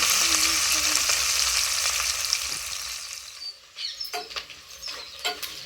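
Curry leaves fry in hot peanut oil for mushroom biryani. A dense, bright sizzle fills the first half, then thins into sparse, crackling pops and spits close by, with no talking.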